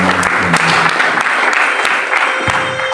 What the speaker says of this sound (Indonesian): Boleh berikan tepuk tangan buat mereka semua.